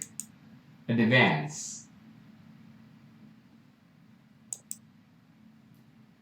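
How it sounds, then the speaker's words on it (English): A computer mouse clicks a few times while someone works in Microsoft Project, with a pair of soft, close clicks near the start and a quick double click later. One short spoken word sounds in between over faint room hiss. "in backstage when you click File button. Then you click Option."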